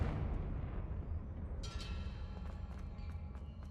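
Confringo explosion spell cast in the Hogwarts Legacy video game, a deep rumbling blast with a crackling burst and trailing debris clatter, loud and close.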